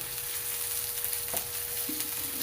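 Chopped garlic and onion sizzle steadily in a hot pan with oil, a constant close frying hiss with a couple of brief stirring clatters partway through.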